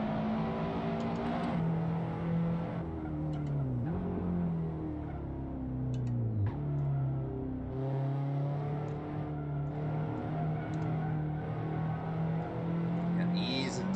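Car engine in the Assetto Corsa racing game on a snowy track, revving and shifting with rising and falling pitch as it accelerates, steady and close, with a voice talking over it at times.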